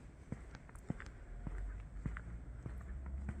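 Footsteps of a person walking toward a Mercedes-Benz EQE electric car outdoors, steady soft steps at a moderate pace, close and fairly faint over light background noise.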